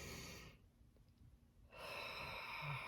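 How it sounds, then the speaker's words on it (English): Deep Ujjayi breathing, a hissing throat-constricted breath that is close and audible, drawn in, paused briefly in near silence, then let out again. "I love the Ujjayi breathing"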